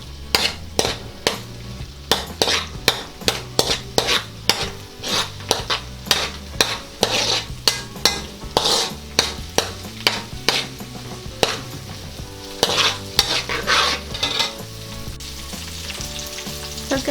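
Onion and garlic sautéing in a pan for odong with sardines, with a rhythmic series of spoon scrapes and clacks against the pan over a constant sizzle, close and fairly loud.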